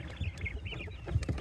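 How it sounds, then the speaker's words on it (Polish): Three roosters, including a white Rosetta and a Pharaoh, cluck in a backyard flock: a few short close clucks and squawky calls spread over a moment, with faint farmyard background. "Więc są tutaj te trzy koguty."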